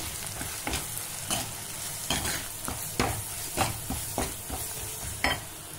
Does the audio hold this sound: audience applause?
no